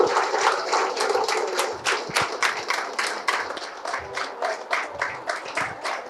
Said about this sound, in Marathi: शिरोडकर मामांचं जोरदार स्वागत झालं पाहिजे, टाळ्या वाजत राहिल्या पाहिजेत